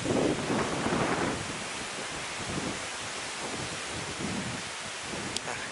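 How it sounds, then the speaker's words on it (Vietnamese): Wind gusts and roars across a rainy riverside campsite, a continuous broadband rush that surges loudest at the start and then settles into a steady blustery wash. "Gió thổi nè."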